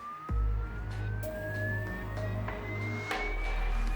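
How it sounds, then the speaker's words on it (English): A sinusoidal test tone played from a loudspeaker at a Lamborghini Huracan EVO in the factory, sweeping slowly upward in pitch as a single steady whistle over low background rumble and occasional knocks. "the engineers generate a sinusoidal tone through a loudspeaker and direct it at the car at changing frequencies or pitch"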